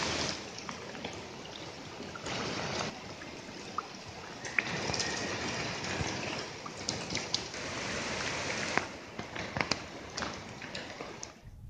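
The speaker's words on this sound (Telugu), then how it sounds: "పలు ప్రాంతాల్లో ఏకధాటిగా వర్షం కురుస్తూనే ఉంది" Heavy monsoon rain falls steadily in a city under a red alert, a continuous moderate hiss with scattered drips and splashes and no talk.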